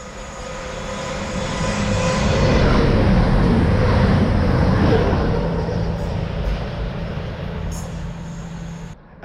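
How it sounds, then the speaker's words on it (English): A train from Nottingham bound for London St Pancras passes through Wellingborough station with a broad rushing roar that builds, peaks in the middle and slowly fades away. "Now we've got a train that's come from Nottingham and is going through to London St"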